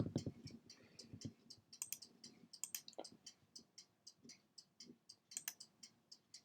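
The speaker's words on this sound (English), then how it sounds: "There's a clock right by my desk and it's really annoying." Rapid, irregular light clicks and ticks from a desk clock close by, soft and steady over a quiet background, more like fast tapping than a slow even tick.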